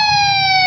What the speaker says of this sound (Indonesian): Ambulans sudah datang.